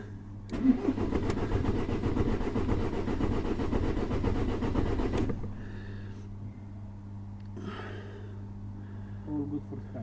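A car's starter cranks the engine with the clutch held down and the key turned, a loud churning whir lasting several seconds that cuts off without the engine catching, followed by quieter rustling.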